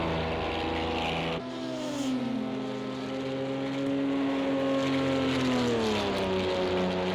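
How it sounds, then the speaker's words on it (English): LMP prototype race cars run flat out through the Porsche Curves at Le Mans in a sim racing game, a loud sustained engine whine with shifting pitch and no lift, another car's tone layered in. "So as you can see, it sounds like no lift from Matty to this Porsche curve, so it's flat out."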